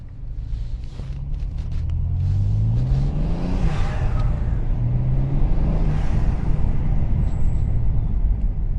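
A BMW G87 M2 with front-mount intakes and exhaust valves closed rumbles and revs up, a deep throaty exhaust note rising and falling steadily over several seconds, fairly close.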